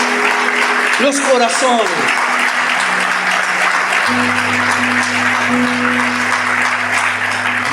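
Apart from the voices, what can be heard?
audience applause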